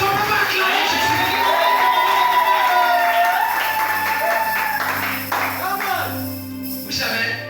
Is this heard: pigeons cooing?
no